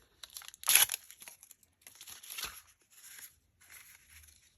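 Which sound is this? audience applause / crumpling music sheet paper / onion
crumpling music sheet paper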